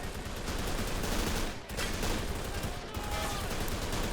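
Machine gun fire from a trench defence in Men of War: Assault Squad, continuous rattling bursts at moderate distance blending into dense battle noise with a short lull.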